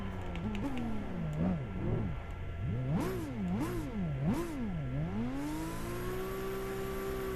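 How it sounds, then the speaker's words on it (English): A Blitz Skyline race car in Gran Turismo 5, its engine and turbo rising and falling in repeated revving swoops with whistling spool, then settling into a steady climbing drone, with occasional clicking taps. "You can hear the turbo spooled up."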